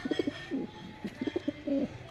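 White Budapest pigeons coo in a series of soft, rolling bursts, close by, with short pauses between calls.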